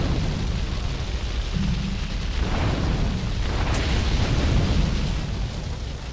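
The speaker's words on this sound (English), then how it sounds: "I set myself on fire like an idiot." In GTA 3, the player character catches fire, and a loud, steady roar of flames and crackling bursts carries through the whole stretch, with no talking.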